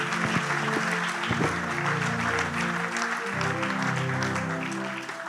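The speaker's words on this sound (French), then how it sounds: "Si c'est possible, on peut acclamer." An audience at a church Bible seminar claps and acclaims steadily, a full wash of applause with a sustained background hum or music running underneath throughout.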